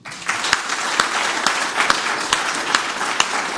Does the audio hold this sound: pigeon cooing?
no